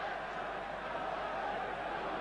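A crowd of around 38,000 at a European Cup semi-final football match between Anderlecht and Aston Villa in a tight English-style stadium, a steady, distant, diffuse roar of murmuring fans with no distinct shouts.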